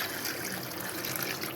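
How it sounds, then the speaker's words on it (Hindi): Water poured into a cooking pot of meat trotters for payee, a steady close trickling and splashing stream without a break, no voices. "ये और पानी ऐड करूँगी"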